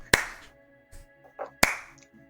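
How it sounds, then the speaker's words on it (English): A slow clap of two sharp, isolated hand claps spaced well over a second apart, loud and close, with soft knocks and small sounds between them and no talk. "Is it like a cricket clap?"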